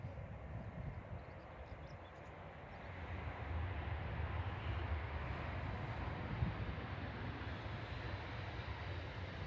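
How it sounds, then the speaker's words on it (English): Airbus A319 airliner of British Airways, registration EUPU, arriving from Heathrow at Manchester Airport, a steady broad engine roar that swells slightly and holds throughout, fairly close and without speech. "It's an A319 EUPU."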